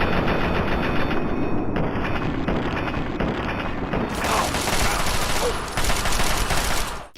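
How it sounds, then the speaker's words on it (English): Xuanlong Assault Rifle, a unique Chinese assault rifle from Fallout 3, fires long automatic bursts, a loud close rapid rattle of shots that swells partway through, with faint talk beneath. "It's arguably the best automatic weapon in the game, being a unique version of the already powerful Chinese assault rifle."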